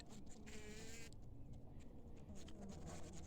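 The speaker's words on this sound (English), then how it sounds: "A swarm has come in" A swarm of honey bees that has settled into a beehive, giving a steady close buzz with brief louder whines from bees flying near, continuing without pause.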